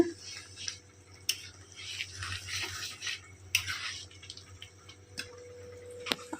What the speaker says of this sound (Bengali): ঘুগনি ফুটছে এখানে